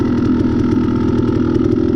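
Dirt bike engine idling steadily in first gear at an off-road race, geared with a 53-tooth rear sprocket; a close, continuous low rumble with no talk.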